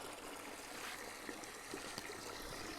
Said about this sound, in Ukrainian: Зараз наберу води.